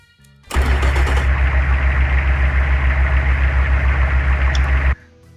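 A one-liter Bshar 6 engine in the Automation car-building game starts with a sharp crank and settles into a loud, steady, buzzing drone for several seconds before cutting off abruptly.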